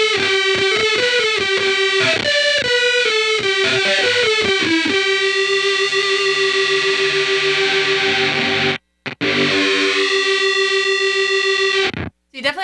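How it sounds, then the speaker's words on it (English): A Cooper FX Arcades synth card gives the guitar a fuzzy, buzzy old-synth tone. Gritty, heavily processed notes run in a quick melodic phrase, then settle into a long held note with brief dropouts, loud and up front. "It gets that cool farty sound that old synths get."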